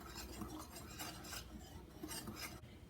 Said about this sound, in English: give it a quick whisk until it's well incorporated